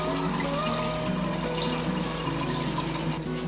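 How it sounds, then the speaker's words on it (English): Water being gently drained off a plant tray of ranunculus corms, a steady close splashing trickle of pouring water running throughout with no talk. "I'm just going to gently drain this off."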